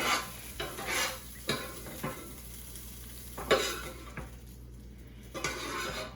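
Peas and onions stirred in a frying pan while cooking shrimp fried rice, a steady sizzle broken by several sharp scrapes and clinks of a utensil against the pan, close and fairly quiet.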